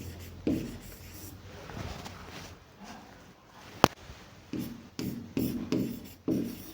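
Chalk or marker scratches across a classroom board in short strokes, with a sharp tap midway and a run of quick rhythmic scrapes toward the end, fairly close and alone.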